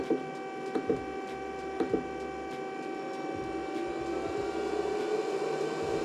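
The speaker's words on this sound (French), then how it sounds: "c'est pas vraiment le ventilo qu'on entend le plus, mais plus le brumisateur" A mist maker and small fan run inside a 1/64 scale diecast display box. They make a steady mechanical hum with tonal whine and faint repeated clicks, close and continuous.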